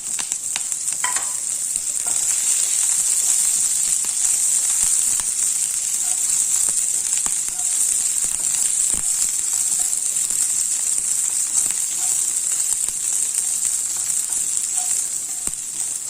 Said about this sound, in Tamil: ஒரு இரும்பு கடாய் போட்டு எண்ணெய் விட்டு கடுகு சோம்பு ஜீரகம் கருவேப்பிலை போட்டு தாளிச்சிருக்கேன் அவரைக்காயும் போட்டு ஒரு வதக்கு வதக்கியாச்சு